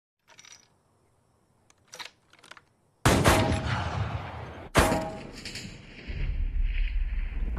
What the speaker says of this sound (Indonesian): Lalu, Jack meminta 1 tembakan pemanasan sebelum melakukan 3 tembakan tersebut.